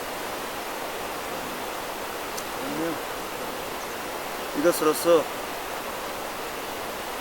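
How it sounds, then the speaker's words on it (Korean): A river flows steadily past a hotel in the Gilgit-Baltistan region of Pakistan, a constant broad rushing wash that fills the whole stretch, with someone speaking briefly and quietly over it. "강물소리도 좋고"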